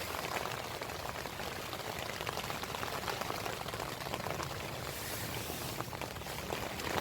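Rain from Tropical Storm Michael in North Carolina, October 2018, falls on a Eureka TCOP combat tent as a faint, steady hissing patter of drops that runs evenly throughout.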